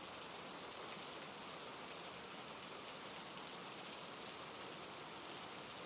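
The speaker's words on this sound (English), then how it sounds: "the patter of rain on the tin roof" Steady, dense rain patters on a tin roof on a heavy night with wind, an even hiss that holds at one level throughout with no voices.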